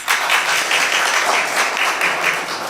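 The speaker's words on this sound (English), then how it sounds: "I heard big applause from that corner." An audience at a ceremony honoring Judge Carmen R. Cabarga applauds, a steady wash of many hands clapping at moderate volume throughout.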